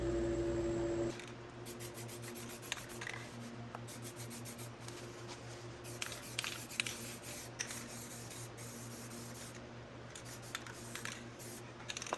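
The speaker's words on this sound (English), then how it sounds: "I'll take a little bit of brake clean and I'll spray it on a microfiber" Short bursts of brake cleaner spray hiss intermittently, mixed with soft rubbing and wiping with a microfiber cloth close by, fairly quiet.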